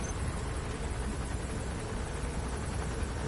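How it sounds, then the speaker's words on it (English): A helicopter circles overhead, a steady broad rotor and engine rumble that holds constant from beginning to end, fairly faint and with no voices. "Trying to look at this helicopter's little path that it takes."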